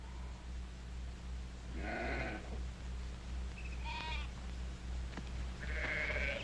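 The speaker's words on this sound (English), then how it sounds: "Now, Drummond, get those sheep out now." Flock of sheep on a western ranch bleating in several separate calls, some near and some farther off, over a steady low hum of background noise.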